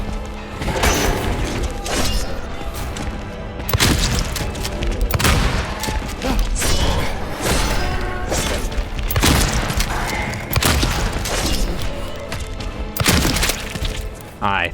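Shotgun blasts from a James Sunderland boss fight in the Silent Hill 2 (2024) remake, several loud bursts at irregular intervals over dense game music and effects, with crashing and breaking debris between them.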